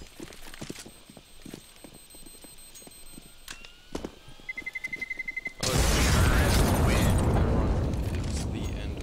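A CS:GO bomb beeps rapidly for about a second, then detonates in a loud, sustained roar that fills the last few seconds, preceded by scattered footstep-like game sounds.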